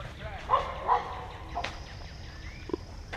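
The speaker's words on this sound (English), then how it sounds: "Sounds like we're gonna meet a dog here in a minute." A dog barks a couple of times at a rustic campground, distant and faint, with quiet outdoor ambience and a few scattered sounds.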